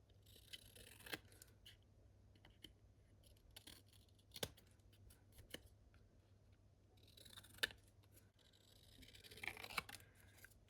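Scissors cut through paper or cardstock for tags and pockets in a papercraft session, with faint, sparse snips and a short run of denser cutting near the end, quiet and close, with no talking.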